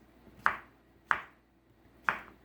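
A dull kitchen knife cuts zucchini into quarter-inch slices on a board, three sharp, evenly spaced knocks, each closely followed by a brief ringing tap.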